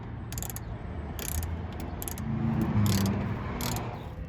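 A socket wrench ratchets on T25 screws under the rear of a Porsche 991 GT3 raised on a floor jack, giving short bursts of rapid clicking repeated about five times, close and fairly quiet.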